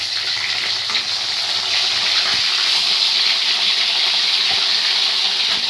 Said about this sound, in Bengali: তো মাছগুলো এখানে ভাজা হয়ে গেছে পুরোপুরি